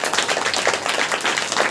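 A church congregation clapping hands together during a worship service, a dense steady patter of many hands at moderate loudness with no speech over it.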